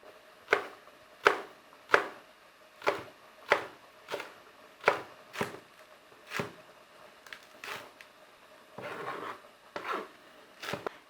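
A knife slices spring onion at an angle on a cutting board, about a dozen crisp, evenly spaced chops in a steady rhythm, close and clear with no talking.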